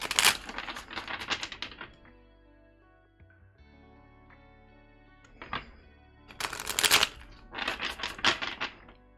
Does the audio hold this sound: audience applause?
no